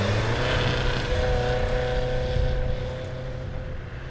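Ferrari 250 GTO at an anniversary parade on the Waterford Hills track, engine droning loud and steady nearby, then easing off slightly toward the end, with no talk.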